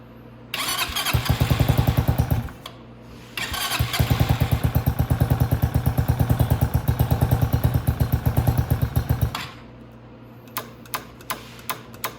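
A Venom X22gt 250cc motorcycle engine after a top-end rebuild and valve job, cranking and catching into a loud, rapid, even idle, close by, cutting out twice before a few last pops.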